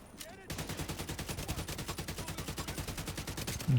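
TKB rifle firing in a video game, a long unbroken burst of rapid, evenly spaced shots that begins after a short lead-in and keeps its steady rhythm, loud and close, with a louder thump at the very end.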